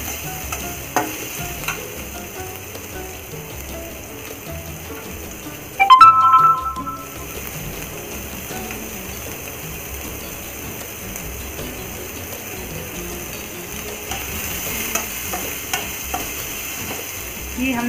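Finely chopped onion frying in a pan, a steady close sizzle under occasional stirring scrapes, with one brief louder clatter partway through and no talk.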